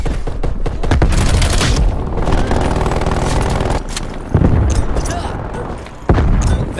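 A grenade blast in the Call of Duty Black Ops Cold War multiplayer game, set within loud, dense battle noise of rapid gunfire and heavy booms, with sharp bursts punching through near the start, midway and at the end.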